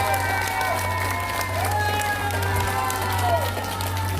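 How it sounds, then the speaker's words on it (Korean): Applause and crowd noise rise at a political rally over impeachment, a diffuse wash of clapping from a large gathering under a strong steady electrical hum, with faint tonal voices threaded through. "박수 한번 부탁드리겠습니다."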